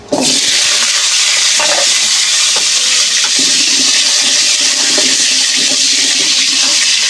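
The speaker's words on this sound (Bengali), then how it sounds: "আলুগুলো ভেজে নেব" A loud, steady hiss of potatoes frying in hot oil begins abruptly and continues without pause, with faint stirring clatter underneath.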